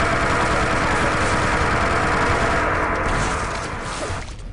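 Rocket fire and explosions in a competitive arena shooter match, a dense, loud roar of blasts and engine-like rumble that keeps going before fading somewhat near the end.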